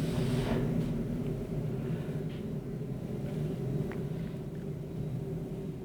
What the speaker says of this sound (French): Et vous voyez tout de suite que les rotors diminuent de vitesse